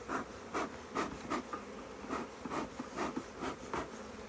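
Honey bees hum steadily around an open Langstroth hive in the Dandenongs near Melbourne, a close, continuous buzz with pulsing swells as bees move past.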